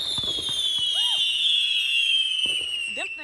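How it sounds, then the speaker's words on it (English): Fireworks show played on a home TV: a sustained high whistling whine with sharp crackling bursts and a couple of pops, heard through the television at moderate level with no talk. "y'all finna look at these fireworks on this TV"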